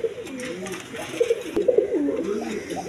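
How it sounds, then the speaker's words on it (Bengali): A pair of Indian Bombai pigeons coo in repeated throaty, rolling phrases, close and fairly loud, with a faint murmur of background noise throughout. "বন্ধুগণ এখানে এক পেয়ার বোম্বাই আছে, ইন্ডিয়ান বোম্বাই। দেখেন ডাকা ডাকতেছে"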